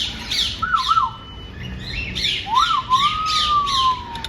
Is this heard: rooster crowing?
no